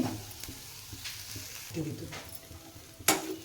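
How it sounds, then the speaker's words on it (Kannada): Sliced bitter gourd fries in a pan while being stirred, with soft sizzling, scattered scraping strokes and a sharp clank near the end, heard up close. "ಈಗ ನಾನು ಉರಿತಿದ್ದೀನಿ ನೋಡ್ರಿ. ಹಿಂಗೆ ಉರಿರಿ."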